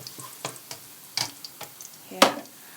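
Garlic and chili powder frying in oil in a wok, sparse sizzling under scattered spatula taps and scrapes, with one sharp louder clank near the end.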